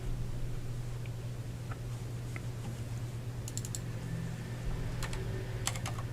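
Computer keyboard shortcut presses during image editing work, scattered light clicks of single keys over a steady low hum, with a quick cluster of taps near the end and no speech.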